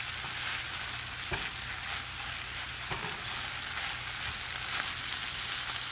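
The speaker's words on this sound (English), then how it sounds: "As it sizzles away." Steady crackling sizzle of food frying in a pan, with occasional scraping taps of stirring, close and continuous.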